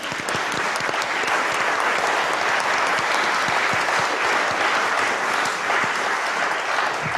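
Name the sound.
audience applause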